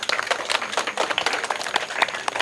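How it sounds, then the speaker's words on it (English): A small outdoor crowd at a Parkinson's walkathon gives a short round of applause, with distinct, scattered claps rather than a dense roar, close and fairly loud. "A big round of applause for yourself."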